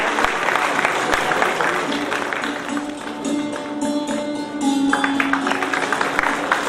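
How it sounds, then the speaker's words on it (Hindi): Applause from the audience at a convocation ceremony runs steadily throughout, dense and moderately loud, briefly thinning in the middle as a voice speaks over it before the clapping swells again. "तालियां चलती रहनी चाहिए।"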